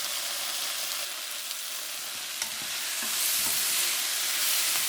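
Sugar snap peas sizzle and fry in a pan with sugar added, a steady soft crackling hiss with faint stirring scrapes, heard alone without talk.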